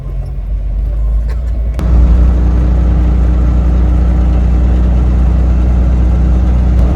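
A 1988.5 Suzuki Samurai with twin lockers runs its engine on icy streets, a loud steady low rumble heard from inside, jumping in level at about two seconds and then holding a constant drone.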